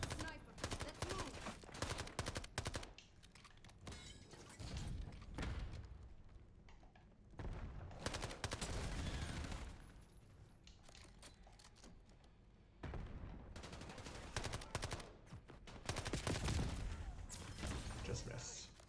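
Heavy video-game gunfire comes in repeated dense bursts with booming impacts, separated by short lulls, and talk is mixed in.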